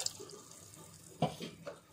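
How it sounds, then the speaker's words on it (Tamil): Water pours from a tap onto toor dal in a cooking pot, a faint, quiet trickle with a couple of brief splashes and drips near the end. "நம்ம துவரம்பருப்பு தண்ணி ஊற்றி நம்ம வேக வச்சுக்கலாம்"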